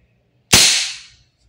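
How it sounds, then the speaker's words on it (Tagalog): Single semi-auto shot from an Umarex HK416D Gen 3 airsoft gas blowback rifle, a sharp loud crack with a short hissing tail, alone in near silence. "Putok lang natin ang isa."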